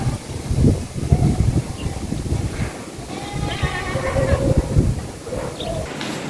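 Strong gusting wind rushes and rustles through bamboo leaves and stalks as rain begins, with bursts of buffeting against the microphone and a voice speaking faintly underneath.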